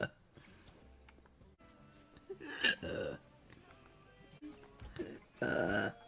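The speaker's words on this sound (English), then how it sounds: "There's your burp." Two short burps from a woman, the second louder and longer, heard close in a quiet room with faint background noise.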